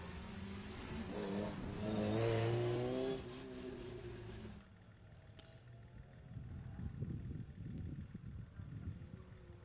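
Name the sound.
BMW and Vauxhall VX220 rally cars passing on stage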